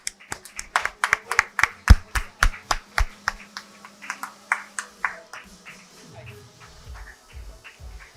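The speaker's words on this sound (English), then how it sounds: "a great round of applause for all these prize winners" An awards-ceremony audience claps for the prize winners: a loud run of sharp, rhythmic hand claps that soon thins into scattered, softer claps, with faint voices underneath as it dies away.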